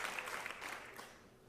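Applause from a theatre audience at a dance performance, honouring the translator, a soft, fairly distant patter of many hands that slowly fades over a second and a half.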